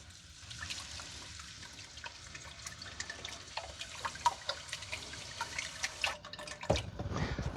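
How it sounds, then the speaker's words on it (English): Chicken broth trickles slowly into a thickened mixture in a pot, soft close splashes and drips that grow busier, ending with a fuller pouring rush. "at this point, we can start to slowly pour our chicken broth in."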